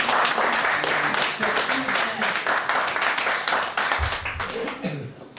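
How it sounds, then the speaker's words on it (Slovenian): An audience applauds at a literary evening in a cultural venue, a dense rapid clatter of many hands that stays steady, with some vocal sound mixed in before it thins out near the end. "Aplavz, prosim."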